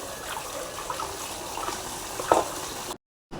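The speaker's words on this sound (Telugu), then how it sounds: "అంట్లన్నీ కూడా అయితే శుభ్రంగా అయితే కడిగేసుకుంటున్నాను" Dishes are washed under a running kitchen tap, a steady close gush of water with a faint clink partway through, cutting off abruptly near the end.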